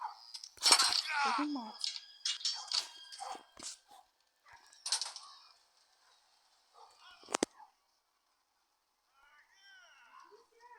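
A dog in the horror video game Metel, with short clinks and a possible breaking vase mixed in among lively talk, then a faint whine toward the end.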